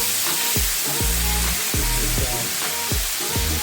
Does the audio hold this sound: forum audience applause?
no